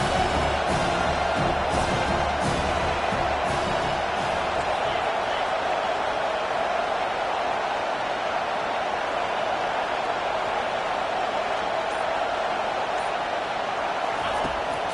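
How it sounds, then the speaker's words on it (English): A packed stadium crowd roars at a football game while the home defense faces third and long, a dense, continuous wall of noise that holds steady from start to finish. "Listen to this crowd just shaking the girders of this place, trying to help their defense."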